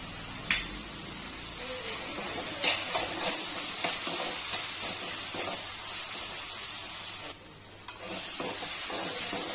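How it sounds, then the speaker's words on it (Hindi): Ginger-garlic paste sizzling in hot oil over cooked tomato, a steady loud frying hiss with brief stirring scrapes, dipping momentarily near the end before resuming. "अब डाल देंगे हम लहसुन अदरक का पेस्ट"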